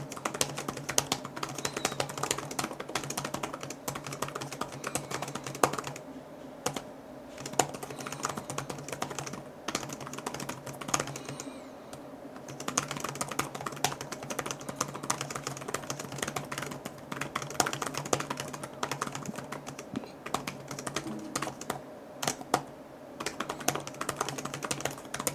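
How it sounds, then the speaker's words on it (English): Typing on the keyboard of an HP Omnibook 7 Aero 13-inch laptop: a steady patter of quick, light key clicks with brief pauses, close and alone. "do a quick, typing test here to kind of show you what the keyboard sounds like"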